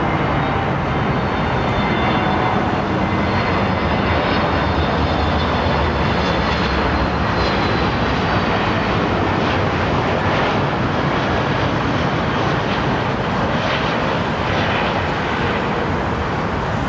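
A jet airliner on approach at London Heathrow Airport, a loud continuous broadband engine roar that holds steady throughout with no voices.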